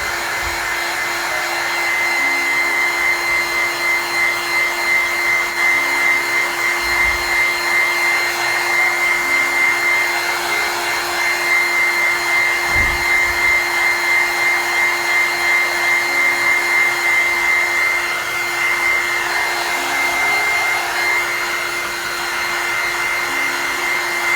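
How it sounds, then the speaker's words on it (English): A heat gun blows continuously with a loud, steady whine and airy rush, running unbroken with slight wavering throughout. "The heat gun was very loud, wasn't it?"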